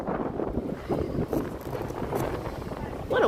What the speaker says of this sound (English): What a windy day here in the city.